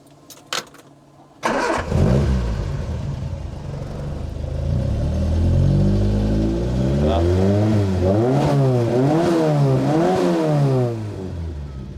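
A damaged car's engine cranks and catches, idles roughly, then revs up and down repeatedly in quick surges nearby before settling back.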